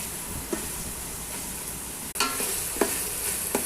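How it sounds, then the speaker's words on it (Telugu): Chicken frying with onions and tomato in oil inside a rice cooker, a steady close hiss of sizzling with a few brief clinks of stirring, no voices. "దానికోసం ఫస్ట్ ఆయిల్ వేసాము, తర్వాత ఆనియన్స్ టమోటా వేసి ఫ్రై చేస్తున్నాము ఫ్రెండ్స్"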